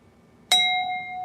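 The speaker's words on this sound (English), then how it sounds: "You get a bell for joining the stream." A single bright bell ding rings out for a stream joiner, struck sharply after near silence and left to ring on with a clear sustained tone, with no talking.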